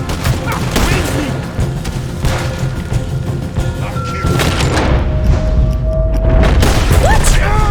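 Gunfire in Red Dead Redemption II: loud, dense booms and cracking shots pile up in a near-continuous barrage, with voices calling out now and then beneath the din.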